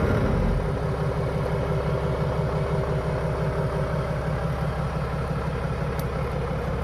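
A 1941 Dodge WC13 truck engine idles with a steady, close, rhythmic low rumble, holding an even beat throughout with no voices over it.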